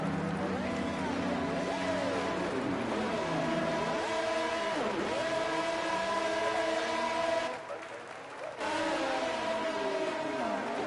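A pack of F1 race cars in a racing video game at the American Grand Prix roar off the grid, several engines revving and sweeping up and down in pitch together, loud and continuous, with a brief dip partway through.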